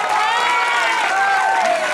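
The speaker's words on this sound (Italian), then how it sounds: "È da un po' che non sento i vostri applausi" Concert audience applauding and cheering, a loud, steady crowd roar with whistles and raised voices gliding over it.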